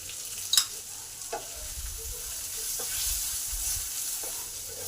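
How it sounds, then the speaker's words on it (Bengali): Onions with salt fry in a pan with a soft, continuous sizzle, and a utensil scrapes and stirs through them in a few distinct strokes, heard close with no talking. "এই সময় পেঁয়াজটাকে দিয়ে দিলাম, সামান্য পরিমাণ নুন দিলাম পেঁয়াজটা ভালোভাবে ভাজা হওয়ার জন্য।"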